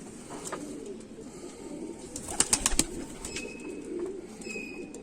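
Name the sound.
Kamagar pigeons cooing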